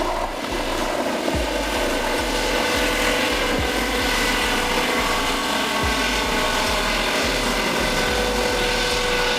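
Ambulance helicopter in flight, a steady loud rotor drone with a rhythmic low chopping pulse running continuously throughout.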